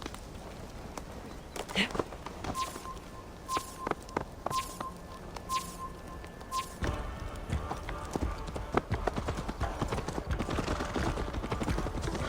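A horse's hooves clip-clop in Assassin's Creed Valhalla, irregular clopping that quickens into a faster run, with game dialogue and soft background sounds underneath.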